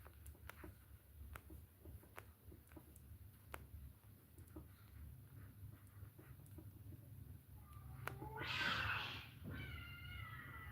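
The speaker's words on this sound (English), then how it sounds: "can you hear those cats" Cats meow outside, a drawn-out, caterwauling cry rising loud near the end after a long stretch of quiet background with faint ticks, then fading into a softer second call.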